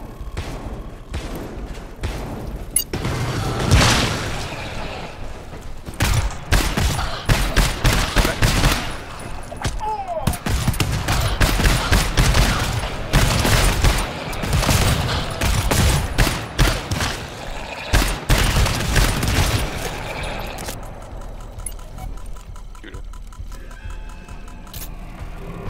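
Rapid bursts of gunfire from the co-op shooter GTFO, repeated volleys loud and close across most of the stretch, tapering off near the end, with a voice speaking briefly.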